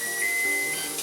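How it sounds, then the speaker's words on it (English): An oven sounds a steady electronic tone to signal it has reached temperature, a single thin beep held for about half a second over faint background hiss. "Oven's at temperature."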